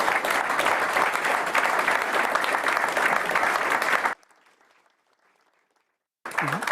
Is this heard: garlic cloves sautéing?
no